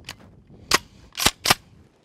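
Three sharp shotgun blasts of buckshot fired at a patterning target from 15 yards, each a loud, crisp crack with a brief tail, preceded by a fainter click-like pop, spaced irregularly across two seconds with no talking.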